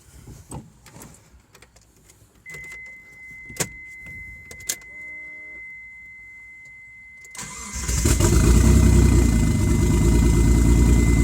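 A 1991 Mitsubishi 3000GT fires up for its first start after a rebuild, running with no exhaust manifolds or downpipe; quiet clicks and a faint whine precede a sudden loud, raw, continuous engine roar that holds steady.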